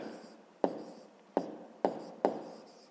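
Pen on paper writing out the answer to a fifth-grade maths problem, four sharp close taps or strokes, each followed by a brief scratchy trail, against quiet room tone.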